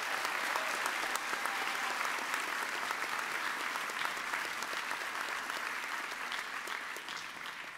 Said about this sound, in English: Let's give everyone being celebrated today another round of applause.